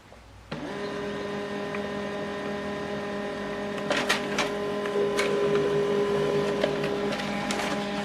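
An HP LaserJet all-in-one printer starts up abruptly and prints a document, a steady close mechanical whir with layered tones, punctuated by sharper clicks and paper-feed rattles toward the end.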